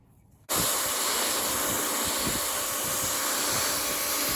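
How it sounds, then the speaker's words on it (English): After a brief quiet moment, a pressure washer starts up for siding work with a sudden loud, steady hissing roar that holds without a break. "we decided to go ahead and pull the pressure washer out"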